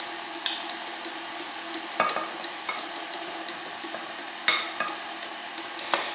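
Pumpkin bundt cake batter being mixed in a bowl, soft wet stirring with a few sharp clinks and scrapes of a utensil against the bowl at intervals.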